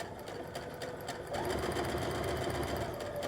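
A sewing machine stitches a dart in A-line skirt fabric, with a close, steady mechanical whir that picks up speed and grows louder partway through.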